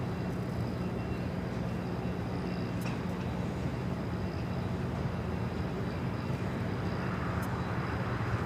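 A Japan Airlines Airbus A350-1000 lands on runway 25 at LAX after a flight from Tokyo Haneda, its engines a steady, broad roar held at an even level throughout, with no talk over it.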